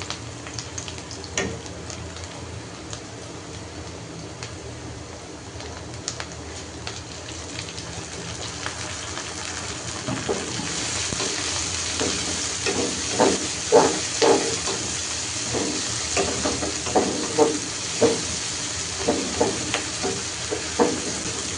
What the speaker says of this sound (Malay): ini saya tumiskan dulu sehingga dia naik bau sahabat